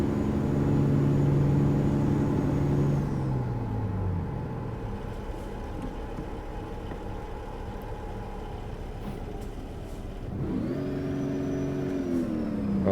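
A big truck engine in American Truck Simulator revs and drones with the clutch in, its pitch sliding down and settling into a steady hum before rising again near the end.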